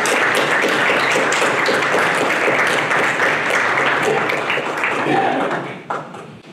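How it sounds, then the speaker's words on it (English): An audience at a mental health forum breaks into loud, sustained clapping that fills the room, tapering off near the end. "spontaneous outburst of applause"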